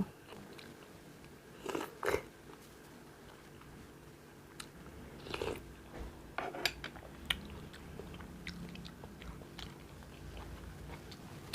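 Close, quiet chewing and biting of sticky rice eaten with wood ear mushroom curry and pork larb, in a few crunchy bursts separated by near-silence. No one speaks.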